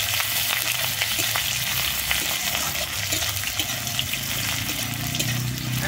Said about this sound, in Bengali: আমি পেঁয়াজটা কিন্তু একটু লাল করে ভেজে নেব।